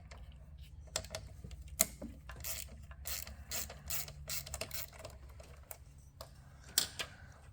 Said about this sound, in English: you're going to take your 5/16 and loosen up those 2 bolts